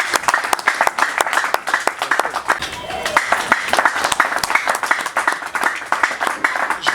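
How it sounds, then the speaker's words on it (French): A crowd at a formal gathering claps loudly and steadily, a dense patter of many hands that keeps going without pause for several seconds, with faint voices underneath. "Je vous prie de l'applaudir, s'il vous plaît."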